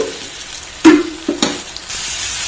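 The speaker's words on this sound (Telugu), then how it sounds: "ఇప్పుడు దీనిలో మనము సొరకాయ పీసెస్ యాడ్ చేసేసుకుందాం ఇది కూడా మొత్తం మిక్స్ చేసేద్దామండి" Bottle gourd pieces are stirred into a sizzling curry in a pan, with two distinct clattering stirs over a low frying hiss.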